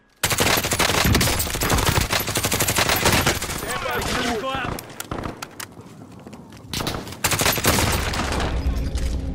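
Heavy automatic gunfire in a video game, dense rapid volleys that ease into scattered shots midway before loud bursts resume.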